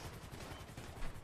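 Rapid gunfire from a multiplayer video game shootout, a dense, continuous crackle of shots with no clear pauses, moderately loud throughout.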